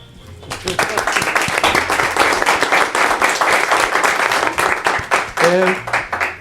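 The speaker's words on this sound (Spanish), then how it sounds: "para quienes pido un aplauso" Audience applause at a Spanish-language film event honoring people who make cinema, a dense, sustained burst of many hands clapping that swells quickly and holds steady for several seconds, with a few voices rising near the end.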